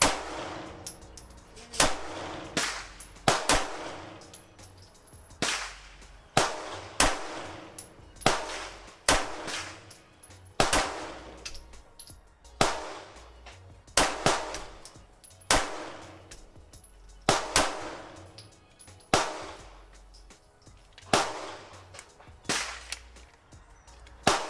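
A Ruger RXM pistol fired at a shooting range, sharp loud cracks arriving one at a time in a steady, spaced series with short ringing decay after each report, no speech.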